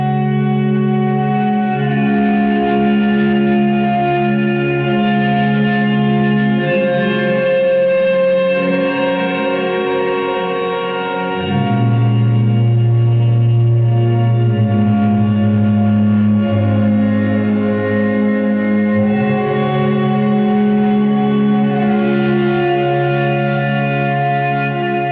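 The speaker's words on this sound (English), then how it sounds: "the reverb tails and all the delays kind of keep on going after I disengage the Super Ego effect" Sustained, layered electric guitar tones from a Super Ego infinite-sustain pedal with delays hang and blend together in a wash of reverb, shifting pitch slowly with no break in the sound.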